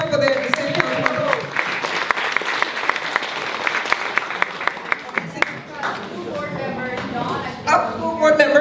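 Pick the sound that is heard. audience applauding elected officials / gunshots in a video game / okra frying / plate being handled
audience applauding elected officials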